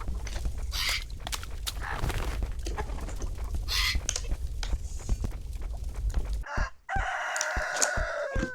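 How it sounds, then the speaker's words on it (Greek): A chicken clucking and crowing in the video game Deadly Delivery, mixed with game noise and a sharp squawk near the end. "Η κότα."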